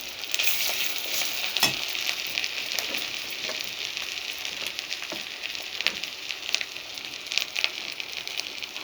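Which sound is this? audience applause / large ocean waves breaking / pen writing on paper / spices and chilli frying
spices and chilli frying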